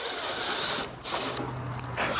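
A sharp drill bit boring a hole to mount a Faco front rack on a Vespa GTS HPE, a steady close whine that briefly dips and returns over a couple of seconds, no talking.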